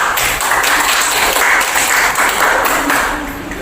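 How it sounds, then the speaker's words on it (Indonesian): A classroom of students applauding together, steady dense clapping that holds for a few seconds and tapers slightly at the end. "oke, bagus, tepuk tangan."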